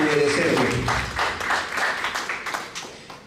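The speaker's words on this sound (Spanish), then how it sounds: "Démosle un aplauso a ese Señor Jesucristo" A church congregation claps and applauds together, a dense, lively burst that stays loud and then tapers off, with a preacher's voice carrying over it.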